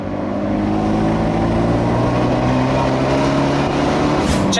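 Turbocharged engine of an Abarth 124 Spider pulling under acceleration, a loud, steady, close engine drone with a dense, sustained tone throughout and no voices.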